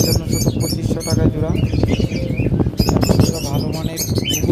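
Caged lovebirds, cockatiels, java birds and doves at a bird shop keep up a dense, busy chatter of chirps and calls close by, with a voice talking over the birds throughout.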